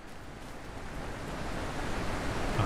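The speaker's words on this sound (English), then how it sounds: "You can just sit here and listen to the rushing water all day." Steady rushing water near a bamboo forest in the puzzle game The Witness makes a broad, even wash of noise that builds slightly louder toward the end, with no voices over it.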